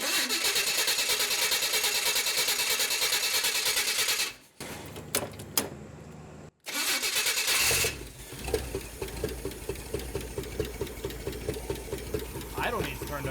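A 1968 Chevrolet Impala V8 cranks and catches, drops out briefly, then fires again and settles into a loud, rough, pulsing idle close to the microphone.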